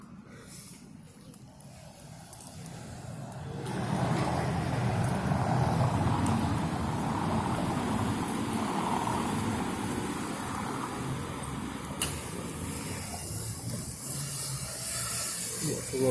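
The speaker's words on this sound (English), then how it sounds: "Just blast through on a 30cc motorcycle that he stole from the guy's kid next door" A 30cc mini bike motorcycle passes by, its buzzing, hissing engine noise swelling in after a few seconds and holding steady at moderate distance, with faint voices in the background.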